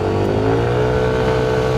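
A Yamaha NMAX Tech Max scooter engine hums steadily at a held rev, close and loud, a constant motor drone with no speech over it.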